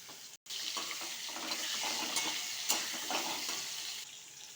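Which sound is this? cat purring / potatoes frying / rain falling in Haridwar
potatoes frying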